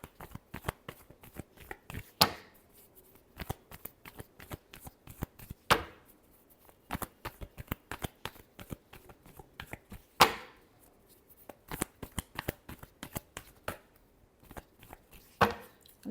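Tarot cards being shuffled during a reading, a run of crisp riffling flutters and sharp slaps repeated steadily, close and fairly loud, with no talk over it.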